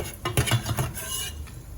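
Deep-fried peanuts scooped out of hot oil for nasi lemak, a metal ladle scraping and clinking in the pan with a few quick stirring strokes, close up, while faint sizzling continues underneath.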